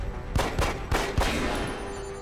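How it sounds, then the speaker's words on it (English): Pistol shots in the XCOM: Enemy Unknown video game ring out as four sharp, loud gunshots in quick succession, followed by a fading echo and a steady background tone. "I'm gonna damage it with my pistols."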